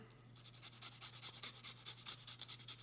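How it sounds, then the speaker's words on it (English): Peeled fresh ginger rubbed over a grater for a baba ganoush mixture, a quick run of about a dozen scratchy rasping strokes in steady rhythm, close and clear over a low hum with no talking. "So I've got a little ginger peeled here, and we're just going to grate some into our mixture."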